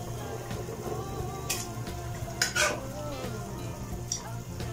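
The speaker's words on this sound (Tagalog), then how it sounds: "Kaya pwede natin ilagay yung ating munggo" Cooked mung beans tipped into a simmering pot of bulalo beef soup, giving soft splashes and clatter among steady bubbling and sizzling, with a couple of sharper pot-and-utensil knocks.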